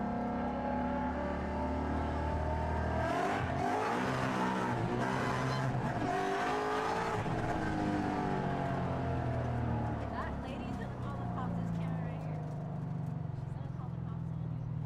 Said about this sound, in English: It feels like a completely new Mustang, and it's so quick.